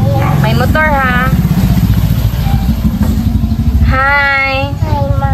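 A motorcycle engine runs close by with a steady rumble throughout, while a child and an adult chatter over it.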